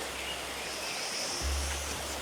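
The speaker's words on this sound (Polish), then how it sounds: "Tam mamy taki wodospad." A small waterfall in a landscape park, heard as a steady, soft broadband rush of falling water, continuous and fairly faint over the brief moment, with a low rumble briefly rising.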